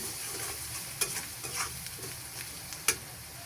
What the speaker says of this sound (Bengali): 1 চামচ মরিচের গুঁড়া, 1/2 চামচ ধনিয়া গুঁড়া দিয়ে মশলাগুলো ভালোভাবে নেড়ে চেড়ে